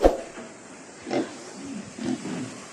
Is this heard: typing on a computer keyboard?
no